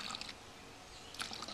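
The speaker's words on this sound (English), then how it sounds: "get out some vinegar, pour vinegar until you have about" Vinegar is poured into a plastic bottle, a brief faint trickle and splash of liquid that swells at the start and end against low background noise.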